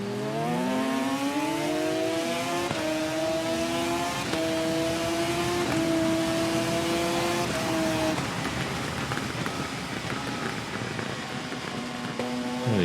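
Motorcycle engine racing in the TT Isle of Man game, revving high through rising, stepped gear changes, then dropping into lower revs under engine braking, loud and continuous throughout with no talk.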